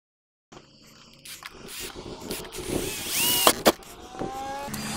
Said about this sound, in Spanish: Con una broca de 6 voy haciendo los agujeros.